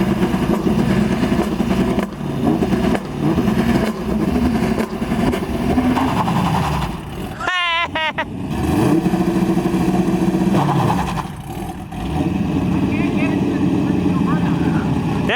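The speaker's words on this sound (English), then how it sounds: "You want to film me just doing one more burnout?" A C5 Corvette fitted with a 2-step launch control roars loudly during a burnout, a sustained, heavy engine drone broken midway by one sharp rev sweeping up and dropping back.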